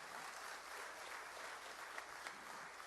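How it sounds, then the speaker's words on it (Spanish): A church congregation applauds God at the close of a sermon. The clapping is a faint, continuous wash from a distance, with a few sharper claps standing out. "Denle un fuerte aplauso a Dios en este día."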